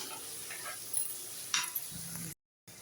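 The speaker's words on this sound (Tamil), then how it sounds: "இப்போ வெங்காயம் நல்லா வதங்கிடுச்சு தக்காளி சேர்த்துக்கலாம் தக்காளி நல்லா வெந்து வரட்டும்" Onions and tomatoes frying in a pan for crab masala, a faint steady sizzle with a few light scrapes and clinks of a spoon, then a brief gap.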